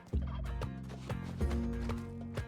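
A turkey in a video game gobbles repeatedly in rapid rattling bursts, loud and close, with thumping footstep-like beats between calls and no talking.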